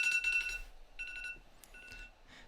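A timer alarm beeps in short electronic bursts: a quick repeated beeping at first, then a few isolated tones after pauses, fairly quiet against a low background hum.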